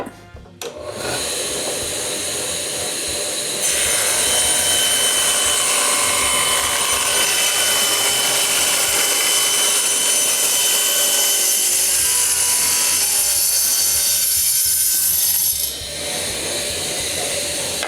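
A table saw in a cabinetmaker's workshop rings loud and steady as the blade spins up and cuts wood for most of the stretch, then winds down near the end, with no talking.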